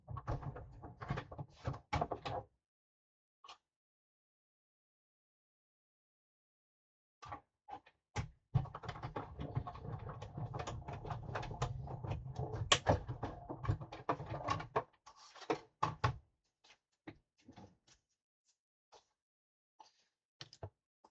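A die-cutting machine feeds dies through for a Stampin' Up framed violets card, giving a steady mechanical grinding rumble for about seven seconds. Scattered clicks and handling knocks come before and after, with no talking.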